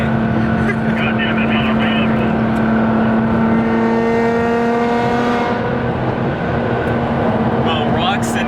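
A Lamborghini Revuelto supercar roars past on a highway, loud and close, its sweeping engine note rising and falling over steady road and wind noise while someone speaks.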